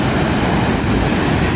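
Ocean surf rolling in at high tide with sea foam on the water, a loud, constant broadband wash close by, rough with wind noise and no distinct wave breaks, with no talking.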